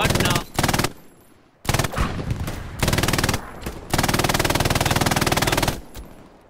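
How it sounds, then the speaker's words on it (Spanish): Machine gun fire in the World War II shooter game Hell Let Loose, loud rapid automatic bursts of several seconds each separated by short pauses, close and dominant, with faint voices underneath. "Me están disparando"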